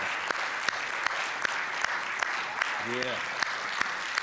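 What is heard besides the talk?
audience applause, hand clapping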